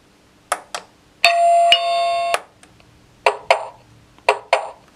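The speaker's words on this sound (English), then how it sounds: "and now the melody is chosen" EchoChime300 doorbell receiver playing its selected melody, a bright sustained chime tone lasting about a second, surrounded by several sharp button clicks close by.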